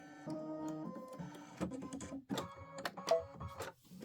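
An Aveneer embroidery machine stitching, heard as a close mechanical whir with shifting tonal motor pitches and rhythmic needle clicks, with no speech.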